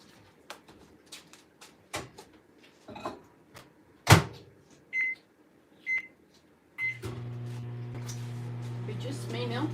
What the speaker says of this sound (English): I guess it goes back in the microwave again.